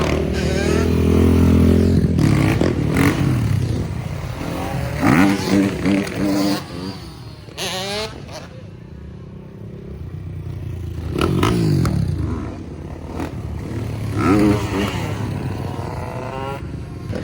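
Motorcycle engines rev and roar close by during drift and stunt riding, rising and falling in bursts, with scraping and clattering, while people talk and shout over the noise.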